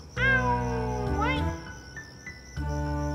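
Two drawn-out cat meows in a Kannada comedy scene, a loud one at the start and a wavering one soon after, then a further voiced sound near the end. Each is close and prominent.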